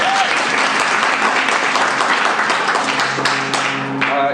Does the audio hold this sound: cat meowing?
no